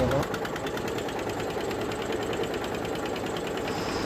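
A small ferry boat's motor engine runs steadily just after starting, a close, even, rapid rattling chug that holds for several seconds while someone talks over it.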